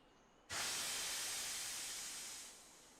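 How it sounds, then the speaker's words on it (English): A toy-model Thomas the Tank Engine lets out a sudden loud hiss of steam that holds steady for about two seconds and then tapers off, heard alone at close range. "Thomas is wheezing out steam."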